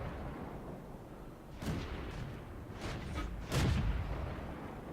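Tank guns fire in the World of Tanks video game, with two or three booming shots a second or so apart over a low rumbling backdrop, fairly quiet overall.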